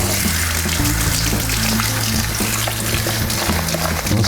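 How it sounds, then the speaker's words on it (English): Rice noodles rinsed under a running kitchen tap, a steady loud rush of water splashing over the noodles with low humming underneath, continuous throughout with no talking. "Let's rinse them. Let's get all that starch out of there."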